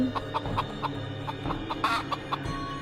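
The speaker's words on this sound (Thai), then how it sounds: "เสียงไก่ในร้าวจะร้องเสียงอื้ออึง" Chickens in a coop cluck loudly and repeatedly in quick irregular bursts, close by, with a steady low background hum.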